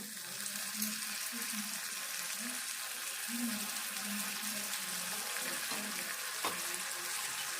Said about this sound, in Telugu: ఈ ఉల్లిగడ్డ ఇట్లా వేగినాక ఇప్పుడు ఈ రొయ్యలు వేసుకోవాలి